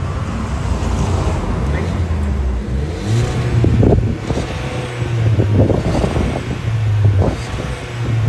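A Volkswagen Virtus GT with a 1.5-litre engine runs nearby, its low exhaust drone rising in a few revs amid wind buffeting as someone talks over it.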